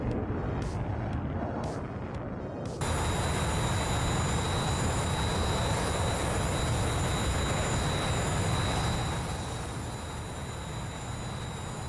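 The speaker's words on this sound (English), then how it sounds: "what better way to pass the time than listen to awesome jet sounds?" Jet engines roar in a combat flight simulator game, a dense continuous rumbling whoosh that swells after a few short bursts at the start, then holds steady before easing slightly near the end.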